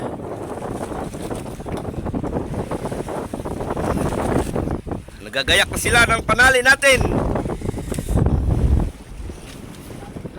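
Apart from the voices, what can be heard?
strong wind at sea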